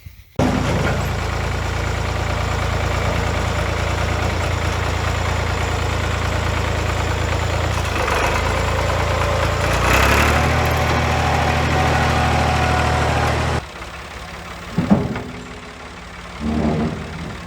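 A tractor engine idles close by with a steady low rumble and throb, briefly revving around the middle before cutting out, followed by quieter outdoor thumps and clanks.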